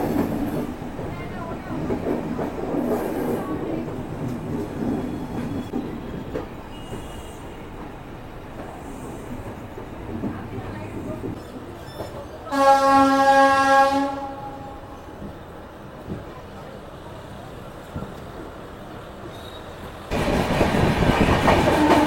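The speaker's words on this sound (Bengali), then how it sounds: "ছেড়ে দিল আমাদের ট্রেন ঠিক রাইট টাইমে 6:55। আর এই শালিমার স্টেশনের 1 নম্বর প্ল্যাটফর্ম ছেড়ে বেরোচ্ছে।" The Sri Jagannath Express (Shalimar–Puri) pulls out of platform 1 at Shalimar station. A steady rolling rumble of the train builds into one loud, sustained horn blast midway, then the rumble returns, swelling louder near the end.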